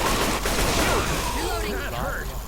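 Gunfire in the Left 4 Dead 2 zombie shooter video game: a quick volley of shots rattles at the start, followed by voices talking excitedly.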